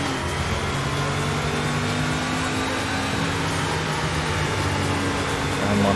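A Porsche Carrera RS 2.7 from Need for Speed: Porsche Unleashed roars at a race start near Monte Carlo, a loud sustained engine drone rising slightly toward the end.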